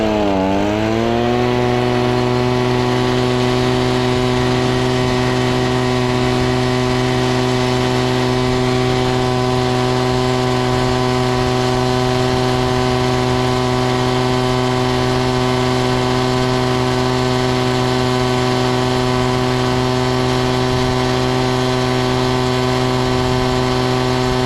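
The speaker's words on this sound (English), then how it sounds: "I finally broke down and went and got me a little blower." A small gas-powered blower engine starts up and then runs at a constant, loud, steady drone for the whole stretch, set beside a pond being drained outdoors.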